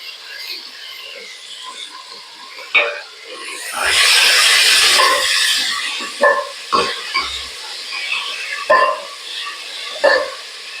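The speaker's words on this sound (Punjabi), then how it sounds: "ਤੇਲ ਆਪਣਾ ਗਰਮ ਹੋ ਗਿਆ ਹੁਣ ਇਹਦੇ ਵਿੱਚ ਪਿਆਜ਼ ਟਮਾਟਰ ਹਰੀ ਮਿਰਚ ਸਾਰੀਆਂ ਚੀਜ਼ਾਂ ਆਪਾਂ ਇੱਕ ਵਾਰੀ ਹੀ ਪਾ ਲਾਂਗੇ" Onion, tomato and green chili drop into hot oil for salted rice, giving a loud burst of frying sizzle midway, with clattering stirs and knocks of a utensil against the pan before and after, no talking.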